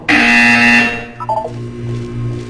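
A buzzer sounds in the video game Portal 2: a loud harsh electronic tone lasting just under a second, followed by a short burst of beeping tones and a lower droning hum.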